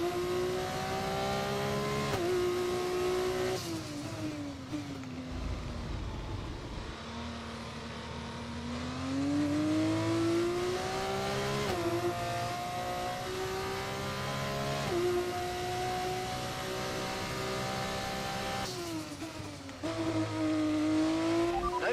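Formula race car engine in F1 24, driven in an F2 championship career race, a continuous high-pitched whine rising and falling through gear changes and throttle lifts, loud and steady for the whole lap section.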